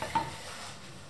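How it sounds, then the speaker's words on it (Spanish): Strawberry liqueur syrup of water and sugar being stirred in a pot over gentle heat, a soft scraping swirl with light sizzling, close and steady for about a second. "Y lo dejáis que se caliente, lo removéis constantemente y nos va a quedar un jarabe."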